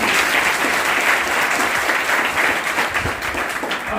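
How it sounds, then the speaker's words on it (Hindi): Loud, dense applause from a large crowd at an anti-drug awareness event, sustained and even throughout. "जोरदार तालियां"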